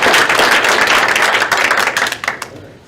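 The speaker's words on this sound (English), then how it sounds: "big round of applause for these 3 young men" A room of people at a school board meeting claps for three young men, dense loud applause that thins into scattered claps and fades out.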